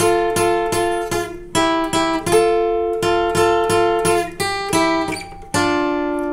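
A guitar plays a short, repeated melodic lick, crisp plucked notes in quick phrases with brief gaps, close and clear with no talking.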